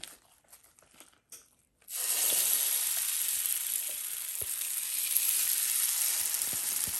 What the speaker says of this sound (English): Sizzle number 2.